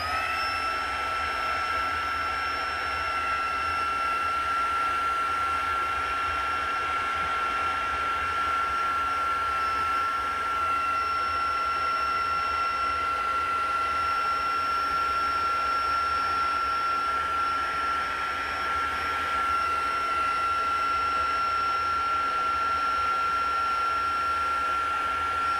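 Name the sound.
heat embossing tool blowing hot air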